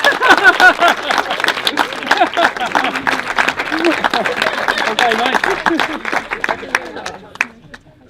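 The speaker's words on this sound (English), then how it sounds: "we'll have a round of applause" Wedding guests applauding after the speeches, a loud, dense round of clapping from a room full of people that carries on for several seconds before tapering off, with voices chattering through it and a brief spoken remark.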